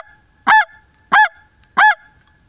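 Three sharp, nasal honks sound in an even rhythm, close and loud, like a goose call.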